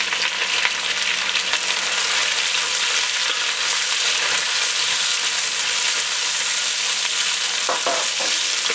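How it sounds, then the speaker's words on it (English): Onions, celery and sweet peppers frying in a pan for a yellow chicken curry, giving a loud, dense, steady sizzle throughout with faint scraping near the end. "We're going to add our onions, celery, and sweet peppers."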